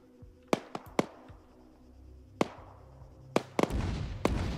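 Gunfire in an Arma 3 battle: scattered sharp single shots ring out at irregular intervals, some near and some distant, followed by a denser rumbling burst at the end.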